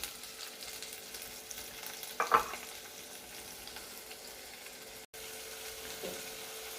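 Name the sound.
tomato pieces added to onions frying in oil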